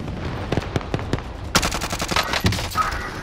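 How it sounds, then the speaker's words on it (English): Gunfire in the Call of Duty Modern Warfare video game: a few spaced single shots followed by a rapid automatic burst, fairly loud and close, with no talk over it. "Somebody shooting me."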